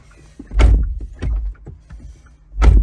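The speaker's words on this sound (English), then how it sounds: "Door's closed." Car door on a 2022 Kia Soul swinging shut with a solid thud, followed by smaller knocks and clicks, then a second heavy slam at the end; close and fairly loud.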